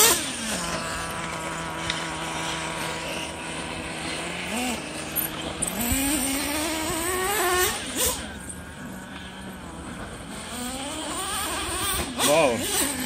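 A car driven hard around a track on a test run, its engine droning and rising and falling in pitch through shifts and turns, with a voice talking over it most of the time.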